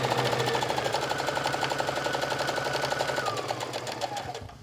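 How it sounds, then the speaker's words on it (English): A sewing machine runs fast and steady while edge stitching trim along the folded edge of a wrap dress bodice, a close, even mechanical whir with rapid needle ticks that slows and fades near the end. "I will be edge stitching the folded edge down first, so that way my trim will stay in place"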